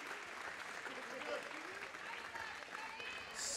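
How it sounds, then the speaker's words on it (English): Fans in a basketball arena applaud a player taking a seat, a soft, even wash of many clapping hands heard from a distance beneath crowd murmur. "getting a nice round of applause from the fans"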